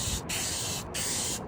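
Three bursts from an unshaken spray paint can hiss onto a Ford F-150 truck, each steady and close, broken by short gaps.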